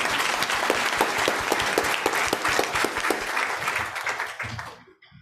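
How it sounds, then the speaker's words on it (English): Workshop audience at an International Fund for Animal Welfare emergency-response session claps steadily, a dense round of applause with some sharp nearby claps, fading out at the very end. "Round of applause, come on."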